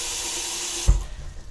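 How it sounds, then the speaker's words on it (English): Tap water gushes loudly into an Instant Pot inner pot, a locally bought 220-volt model, in a home kitchen. The steady broadband rush cuts off partway through, leaving a quieter trickle and low thumps. "I will run just about, I don't know, inch and a half of water in here"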